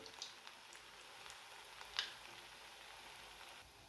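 Kofta balls frying in oil on a medium gas flame: a soft, steady sizzle with faint crackles and a single brighter pop, quiet throughout and with no talking.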